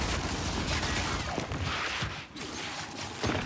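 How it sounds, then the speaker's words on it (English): Nasher shotgun fire in a Gears 5 arcade deathmatch, with sharp blasts landing amid a dense, continuous wash of game battle noise and gunfire throughout. "Nasher shotgun. This is what we want."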